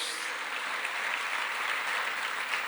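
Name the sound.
applause in church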